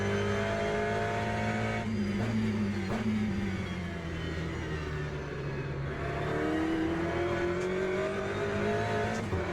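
Race car engine in the Le Mans Ultimate sim, revving and shifting through gears with rising and falling pitch, loud and close, with occasional tyre scrub, no voices.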